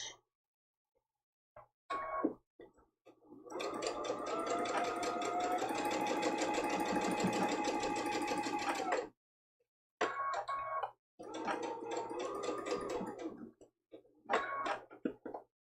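A home sewing machine stitches a peppermint stick mug rug at a short 2.0 stitch length, running in a long steady burst, then stopping and starting in shorter bursts, close and fairly quiet.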